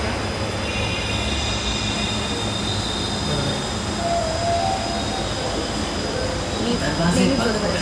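Steady rumble and rush of a Delhi metro train riding toward Ghaziabad, a continuous loud interior drone with faint high whine throughout, with no clear break.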